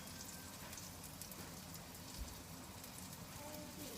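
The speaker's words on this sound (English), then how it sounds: "And pop it on to fry." Food sizzling steadily in a very hot frying pan on a stove, a dense, even crackle close by with no clear pauses.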